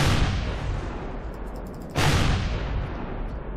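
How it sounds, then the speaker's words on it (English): Missiles strike a drone base turret in the space-survival game Empyrion. A continuous rumbling barrage breaks into a sharp, loud blast about halfway through, and heavy explosive noise carries on afterward. "I think we can hit this one with missiles if we do it right"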